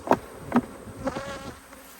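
Honey bees buzz briefly and close as they are shaken off a hive frame, a few quick loud swells of droning that fade into a softer hum.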